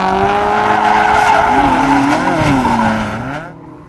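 A car drifts at high speed in a drift competition, its tires squealing in a long, loud, wavering skid that runs steadily and then fades away near the end.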